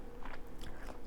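Close, crunchy chewing of a stir fry with chewy rice and crunchy carrots, several quick bites and crunches over about a second with no talking.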